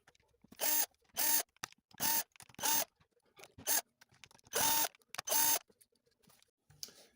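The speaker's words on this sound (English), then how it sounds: "take these little screws out" Small screws being backed out of guitar tuners with a hand screwdriver, a series of brief, close, crisp ratcheting scrapes in short bursts separated by near-silent pauses.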